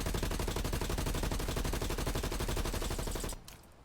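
In the video game Warzone, an XM4 rifle fires from the hip in one long, rapid, steady burst of loud automatic shots for about three seconds, then stops abruptly, leaving a faint tail of quiet.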